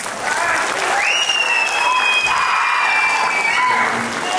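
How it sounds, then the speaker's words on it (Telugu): A large crowd at a film pre-release event in Khammam bursts into sustained, loud applause with scattered whistles, close and continuous for several seconds. "ఒక్కసారి క్లాప్స్ వేసుకోరా."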